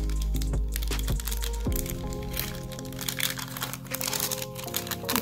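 Tissue paper wrapping on a planner order is opened close up, with crisp crinkles and cracks at first, then continuous rustling and crunching.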